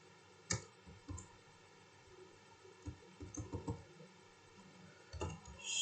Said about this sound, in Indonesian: Kita ketikkan di sini, kita enter dulu.